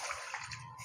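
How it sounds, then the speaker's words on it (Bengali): Water poured into a pot of red lentil dal cooked with hog plums, a short faint steady splashing pour close by with no talk. "এখানে একটু জল দিয়ে দেবো"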